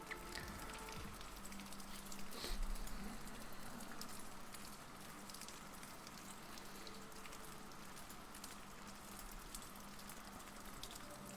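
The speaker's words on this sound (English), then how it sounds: "The rain is too loud." Steady, dense rain drumming on a surface outdoors, a continuous hiss that stays even throughout with no voices.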